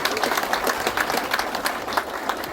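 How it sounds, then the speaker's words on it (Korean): Moderate, close applause for two guests at the opening ceremony of an apple pest-control training session, individual claps audible in a quick, uneven patter throughout. "오늘 참석해주신 내빈 두 분께 다시 한 번 더 감사의 박수 부탁드리겠습니다"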